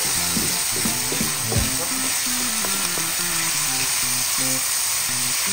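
Chicken liver sizzles loudly in a hot pan while a utensil scrapes and stirs it in irregular strokes, a brief spoken remark passing over the frying.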